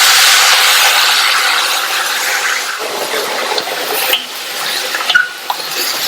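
Water being stirred into an ivy gourd curry in a pan, a hissing wet sizzle that fades down into soft squelching and scraping of a spoon, close up, with no voices.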